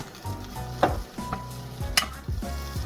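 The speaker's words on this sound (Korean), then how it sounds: "양파 한 개도 채 썰어서 함께 넣고 소금 간만 살짝 해서 볶아요" Shiitake mushrooms and sliced onion are stir-fried with salt in a pan, close scraping and tossing strokes recurring irregularly over a soft sizzle.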